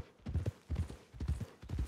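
Horse hooves clip-clopping in Red Dead Redemption 2, a steady, close rhythm of loud paired strikes repeating in three quick bursts, with no talk over them.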